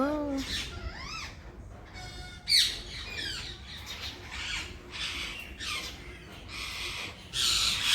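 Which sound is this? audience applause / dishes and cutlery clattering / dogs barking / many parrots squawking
many parrots squawking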